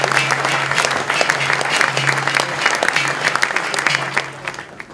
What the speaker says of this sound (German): Grossen Applaus